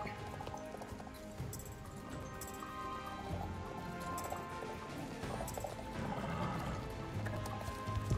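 Hoofbeats of a horse galloping in the video game Star Stable, a steady clip-clop rhythm running throughout over game music, with a faint whinny and some splashing touches.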